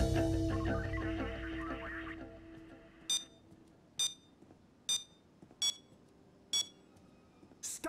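A guard's phone ringing in the heist game Payday, six short electronic ring bursts spaced about a second apart after a busy stretch of music and game noise, with no talk over it.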